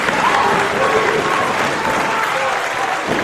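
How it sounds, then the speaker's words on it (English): Loud, raucous crowd applause at a wrestling match, a thick sustained roar of clapping and cheering from a large audience with faint voices mixed in. "The calamity of humanity is met with raucous applause from the West Coast faithful."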